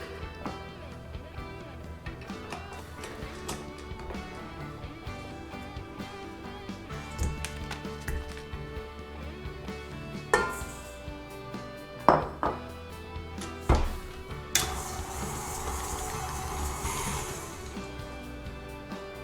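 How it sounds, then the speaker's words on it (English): Butter and sugar being creamed together in a large bowl give off scattered clinks and knocks of a utensil against the bowl and a mixer-like whir near the end, with brief talk. "in a large bowl, we're gonna cream together the butter and sugar until smooth"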